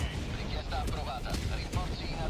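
A nuke exploding in the video game Helldivers 2, heard as faint, scattered booming bursts and crackling blasts under a person talking.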